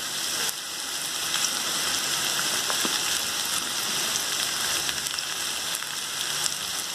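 Carrot, cabbage and capsicum sautéing in a pan for Hakka noodles give a steady, moderate sizzle with a fine crackling hiss and occasional soft clicks.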